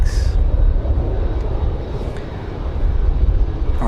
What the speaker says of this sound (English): Comes our 757 back to Atlanta, Georgia.